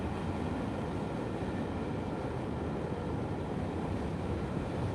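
A train passes behind a hotel as a steady, loud broadband rumble with no distinct onset or fade, filling the whole stretch without voices.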